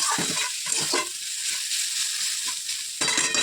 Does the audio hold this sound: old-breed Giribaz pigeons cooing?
no